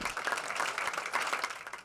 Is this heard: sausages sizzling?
no